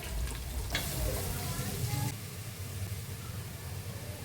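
Ginger, green chilli and garlic paste sautéing in a pan for chicken biryani, a loud sizzle that peaks in the first two seconds and then settles into a softer, steady frying hiss.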